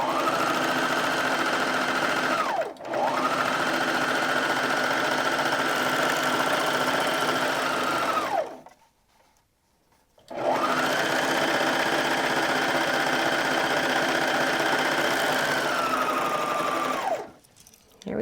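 Sewing machine stitching a denim pocket for a hanging organizer, with two long steady runs of close, loud mechanical whirring separated by brief pauses.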